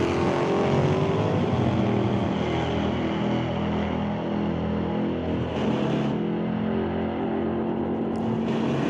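Two drag cars, a 1967 Chevy II Nova and a Roadster, roar down the strip at an NHRA Summit ET bracket final in Mission, a loud continuous engine drone that holds steady, then eases slightly near the end.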